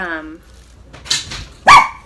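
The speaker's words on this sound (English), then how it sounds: "Oh, those dogs. My goodness, this is all day long." Several dogs bark nearby in a home, a few sharp bursts with a short yip, the loudest bark near the end, alone without talk over them.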